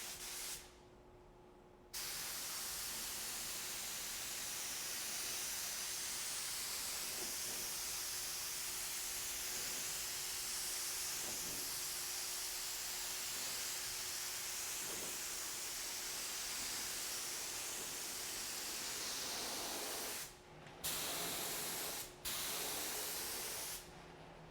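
Continuous loud spray gun hiss of stain-blocking primer being sprayed, steady for about twenty seconds with short breaks near the end.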